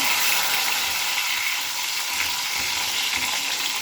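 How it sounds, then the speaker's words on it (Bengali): Hot oil spatters and pops in a pan while pieces fry: a continuous, loud crackling sizzle with scattered sharper pops, heard alone without talk. "এত ফাটছে আমার তো ভয় লাগছে রান্না করতে"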